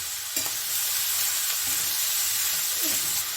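Cooked rice fries with salt in a hot pan for chicken fried rice, giving a steady, close sizzling hiss with a few soft scraping stirs from a spatula.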